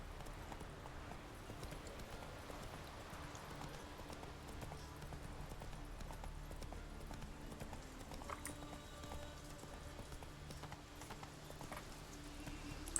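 Roach the horse gallops over the rough Skellige terrain in The Witcher 3, a rapid, steady clip-clop of hooves running throughout against a low ambient game rumble.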